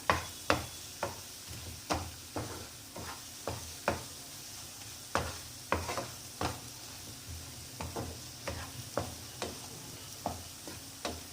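Onions sautéing in oil in a pan for spicy dal kanda, a soft continuous sizzle punctuated by regular spatula taps and scrapes against the pan, fairly quiet and close.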